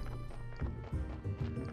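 Donkey's hooves in the video game Graveyard Keeper clop in an uneven run of dull thuds, close and moderately loud.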